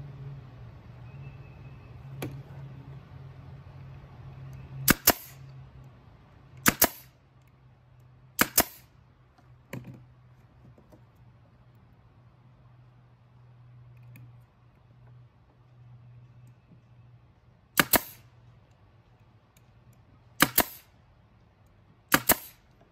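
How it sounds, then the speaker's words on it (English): A staple gun drives staples through an 8-inch wooden crossbar into the base of a homemade wooden tomato cage. Seven sharp, loud snaps come at irregular intervals over a faint, low background hum. "take my 8-inch crossbar and staple it on here"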